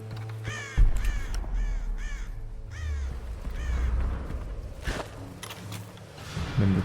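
Crows caw in the Tomb Raider video game, several harsh calls spaced through the scene at middling distance over low ambient rumble, with a scuffing footstep or two near the end.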